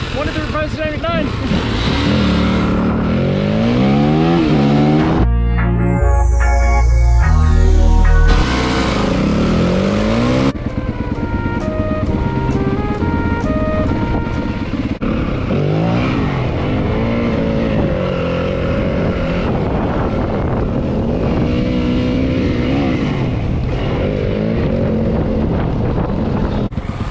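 Two dirt bikes, a Yamaha WR250F and a Kawasaki KLX250, ride in first gear without shifting, loud steady engine drone with rising and falling pitch and heavy wind buffeting on the microphone, a brief louder surge partway through.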